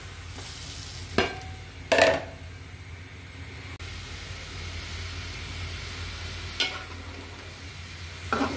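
Potatoes and jackfruit seeds fry in a pan for a traditional Sylheti dried-fish dish, giving a steady low sizzle with a few sharp stirring scrapes near the start and end and no talking.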